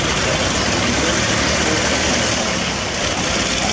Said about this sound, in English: the 108 is coming to land, so as it comes over the motorway, it's pretty much without it, it's a lightweight aeroplane